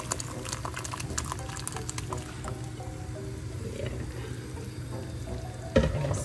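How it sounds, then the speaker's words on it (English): A peanut butter and water mixture pours into a large pot of simmering soup, giving a steady bubbling, squishy slosh that ends in a sharp knock near the close. "So we're gonna add it into our soup."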